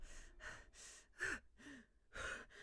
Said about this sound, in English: I gasp for breath, desperate to be safe.